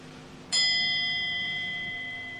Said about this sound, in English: When the bell tolled 1, he resolved to stay awake until the hour was past.